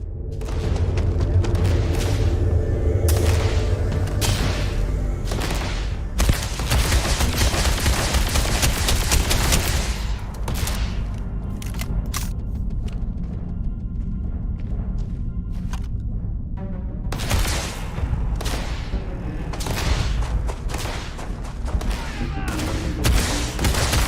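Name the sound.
gunfire while jumping in the video game Starfield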